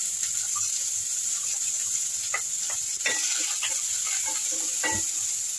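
Onions, garlic, sweet corn and carrot sautéing together in a pan, giving a steady close sizzle and hiss with a few soft scrapes and crackles as the vegetables are stirred; no one speaks.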